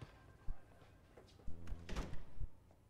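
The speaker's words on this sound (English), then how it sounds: "Close the door, Alan." A door closes during a TV drama scene: a soft knock followed by a cluster of dull wooden thuds and clunks as it swings shut and latches, fairly quiet and with no talk over it.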